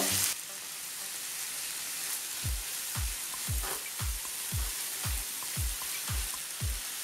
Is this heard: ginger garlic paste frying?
yes